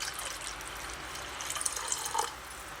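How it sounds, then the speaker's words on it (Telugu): Water pours and splashes into a bowl of Rayalaseema pachipulusu mixture in a short, close, gurgling stream. "మళ్ళీ కొన్ని నీళ్ళు వేసుకుందాం."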